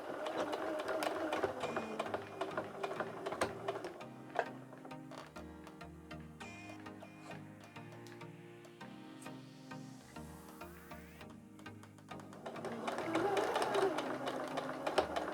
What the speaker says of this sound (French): je vais piquer au ras de ma fermeture éclair